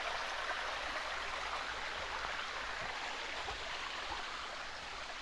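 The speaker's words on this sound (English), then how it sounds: "It's great to have a stream to walk by." A stream in North Wales flows steadily, a dense, even rush of water close by with no pauses and no voices.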